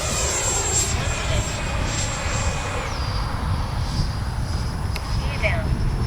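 Freewing 80mm F-5 Tiger II RC jet flying overhead, a steady whooshing electric ducted-fan roar with a high whine that drops in pitch as it passes, with a person talking over it.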